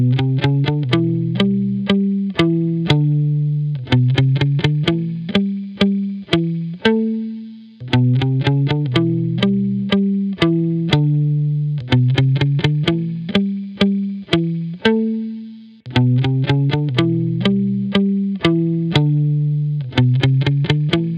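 Distorted electric guitar chords strum in a repeating rhythmic pattern, loud and close, with brief pauses between phrases; no voices.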